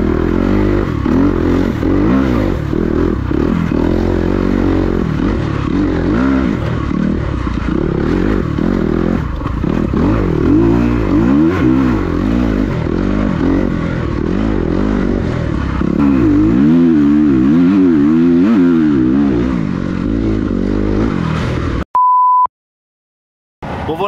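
Motocross motorcycle ridden in an old sand quarry, a loud close engine revving up and down in repeated surges with clattering, cut off near the end by a brief beep and silence.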